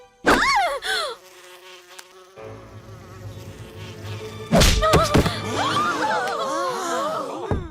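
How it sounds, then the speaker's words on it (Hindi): Buzzing bee in an animated story, rising and falling whines as it darts about, loud and close, broken by a couple of sharp thumps. "वहाँ मधुमक्खी थी"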